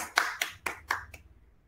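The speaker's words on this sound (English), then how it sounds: "Come on, parents, give them a round of applause" Parents at a school event honoring schoolchildren give about five sharp, evenly spaced claps close by, then the clapping stops and the room falls quiet.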